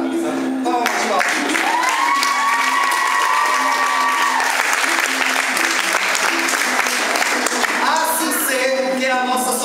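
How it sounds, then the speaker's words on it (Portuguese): An audience at a ballet performance breaks into loud, sustained applause and cheering, a dense wash of clapping with shouted voices rising above it, lasting throughout. "Palmas, palmas."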